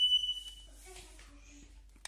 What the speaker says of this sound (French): détecteur de fumée bispectre qui est vraiment très intéressant et de plus en plus répandu